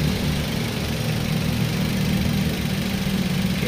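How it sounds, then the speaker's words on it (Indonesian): A 2010 Toyota Avanza G with a manual gearbox idles close by, its engine giving a steady, even, loud mechanical rumble with a slight ticking texture and no voices. "Ini suara mesinnya teman-teman bisa dengar sendiri ya"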